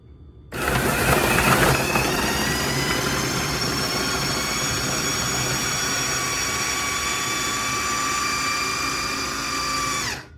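A mixer whirs through raw dog food ingredients with a loud, steady motor drone and a high whine that holds for about ten seconds before cutting off, with no talking.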